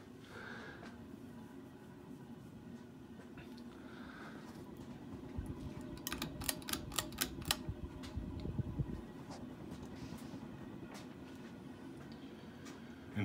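A Moss Heirloom 52-inch ceiling fan hums steadily at medium speed, with a brief burst of rapid ticking midway through, quiet and continuous.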